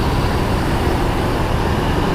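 A Mercedes-Benz OH1526 intercity bus with a Laksana body pulls away from Kampung Rambutan terminal, a steady low engine and road rumble with background traffic.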